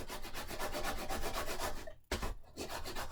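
Paper being burnished for a handmade mini album cover with Country Bunny papers, a steady close rubbing and scraping that runs continuously with one brief pause near the end, no voices.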